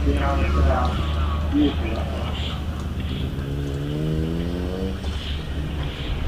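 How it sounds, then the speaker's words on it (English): Porsche RSR race car driving up the hill at the Wiscombe Park British Hillclimb Championship, its engine note rising and falling at mid distance beneath continuous commentary. "A lovely RSR, beautiful that car."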